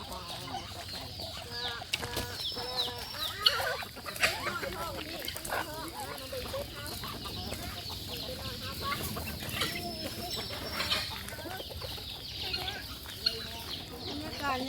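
Chickens and ducks cluck and squawk on a Thai home farm in the early morning, a busy continuous flock chatter close by with a person talking intermittently over it.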